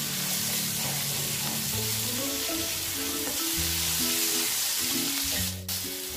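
Hilsa fish sizzles steadily in a frying pan of hot oil after being flipped, a dense continuous crackle with some clinking and scraping near the end and no talk.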